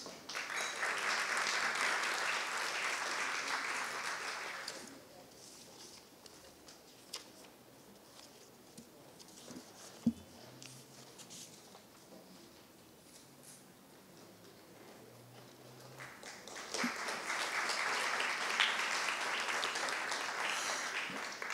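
A crowd applauds teachers honored for 30 years of service at a school recognition ceremony in Miraflores. A burst of clapping lasts about five seconds, then a quiet pause with scattered small noises, then a second round of applause.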